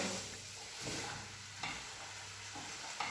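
Food sizzles steadily while being sautéed and roasted in a pan on the stove, with a spoon scraping and stirring it at intervals, the sputtering hiss constant underneath.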